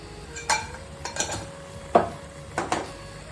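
A spoon stirs drumstick dal (amti) in a metal pot, giving several separate scraping clinks against the sides, spaced apart with brief quiet gaps between strokes.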